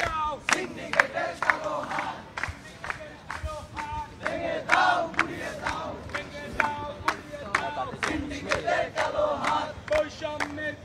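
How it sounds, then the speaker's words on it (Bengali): Students at a night-time protest, around 2 a.m., chant slogans together in loud, rhythmic crowd shouts that rise and fall repeatedly without pause. "আমরা এই জায়গায় দেখছি কয়েকজন শিক্ষার্থী কিন্তু স্লোগান দিচ্ছেন"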